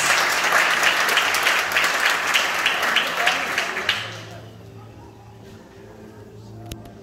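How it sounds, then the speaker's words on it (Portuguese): A church congregation bursts into loud, sustained clapping that fades out after about four seconds, leaving a quiet room with faint murmurs and a low hum. "Aplaude Jesus!"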